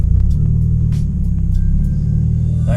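A Scion FR-S, just back from recall work at the dealer, pulls away on a drive. A close, steady low engine rumble holds throughout with no talk.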